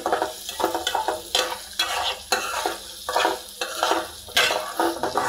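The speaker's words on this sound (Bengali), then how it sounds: "তো আমি ডালটাকে অনেক সুন্দর করে একটু ভেজে নিব।" Lentils (dal) being fried in a pan, stirred in repeated scraping bursts over a steady close sizzle, with occasional light clinks of a utensil against the metal.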